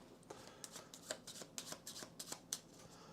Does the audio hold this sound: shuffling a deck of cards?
yes